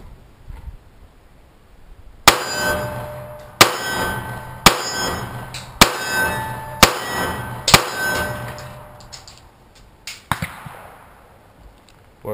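Kimber Micro 9 pistol shooting at a metal steel target: six sharp gunshots each followed by a ringing metallic clang, spaced about a second apart, then a couple of fainter, smaller impacts near the end.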